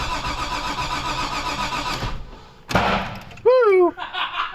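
Starter cranking on a Corvette with a fresh check engine light, a steady churning whir for about two seconds, then a brief catch and a rising surge, with voices talking near the end.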